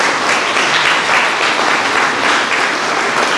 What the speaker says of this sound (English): how about another round of applause?